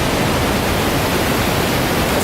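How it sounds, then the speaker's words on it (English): Khone Phapheng waterfall, the largest in Southeast Asia, pours as a loud, steady broadband roar close by, with no voices over the rushing water. "But we're here, the largest waterfall in Southeast Asia."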